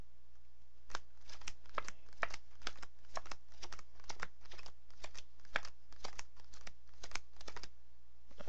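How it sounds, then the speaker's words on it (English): Playing cards dealt one at a time into a pile, giving a steady run of crisp, close snapping flicks alone against faint background hum. "I'm going to count cards down"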